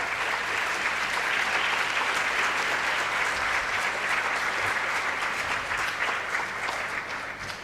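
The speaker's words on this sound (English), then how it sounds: "A big round of applause for everyone" A hall audience at a law school valedictory function gives a sustained round of applause, a thick steady patter of many hands for about seven seconds that tapers slightly at the end.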